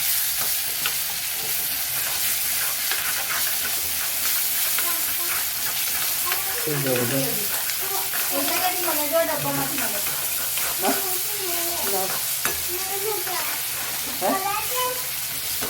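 Tomato, masala and green chillies frying and being stirred in a pan, a steady sizzle running throughout with scraping stir strokes, while a person talks over it.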